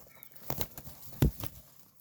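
Pigeons flapping their wings nearby, a few quick bursts of fluttering with one sharper flap, fairly close and moderately loud, with no talk.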